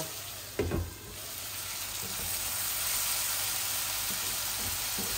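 A vegetable curry with whole cherry tomatoes fries in a pan, making a continuous sizzle that swells slightly louder toward the end, with a sharp knock or clatter near the start.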